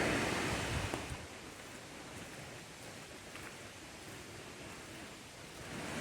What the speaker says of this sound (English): I think that might be one of my favorite waterfalls ever because of how it cascades down and all the moss